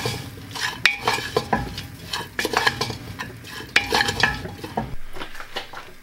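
A masala mixture is stirred in a pan with a metal spoon, giving repeated scraping and clinking strokes in an uneven rhythm over a soft sizzle of frying. The sound is close and moderately loud, with no talking.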